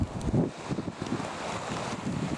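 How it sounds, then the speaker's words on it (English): Strong wind outdoors near Loch Ness, Scotland, buffets the microphone in a constant low rumble, with gusty bursts and a steady roar. "It's a little bit windy guys, so the sound might get a little distorted here and there"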